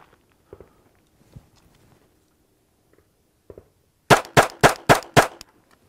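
Five quick pistol gunshots ring out in a tight, even string during a shooting test, loud and sharp, after a few soft footsteps and small handling clicks.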